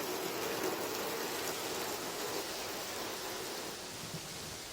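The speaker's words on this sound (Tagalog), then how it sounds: "dahil sa tuloy-tuloy na ulan" Continuous rain falls steadily in Baguio during bad weather, a dense even hiss with no pauses, heard alone without voices.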